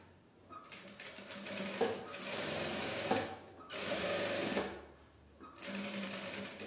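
Sewing machine stitching a seam on a large tote bag, three close bursts of rapid mechanical whirring separated by short pauses, with faint room noise in the gaps.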